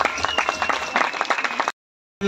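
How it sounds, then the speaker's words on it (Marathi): Audience applause at a stage programme honouring a singer, a dense steady wash of clapping for under two seconds, then an abrupt cut to silence before a brief burst resumes. "पुनश्च एकदा आपण जोरदार टाळ्या वाजवूया सरांसाठी."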